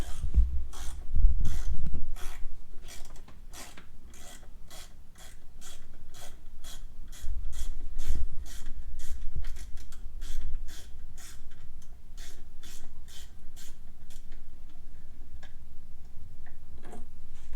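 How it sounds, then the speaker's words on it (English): Gas tank bolts being removed from an XR100R motorcycle with a ratchet wrench, giving a long, steady run of quick clicking ratchet ticks, close and clear with no talking. "There's 2 bolts on the front of the gas tank here and on the other side too. Go ahead and get those out."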